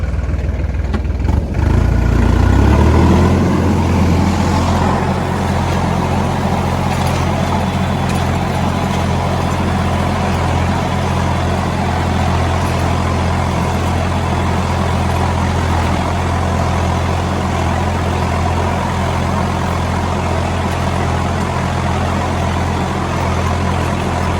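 A Hattat B3080 tractor driving across a field during land preparation, its engine a loud, steady droning rumble that holds at an even pitch throughout, with no talk.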